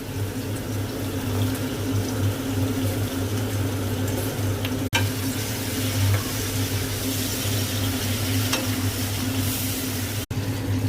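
Chicken frying in a pan for chilli chicken, a steady loud hiss and sizzle that holds evenly throughout, broken only by two short sharp clicks.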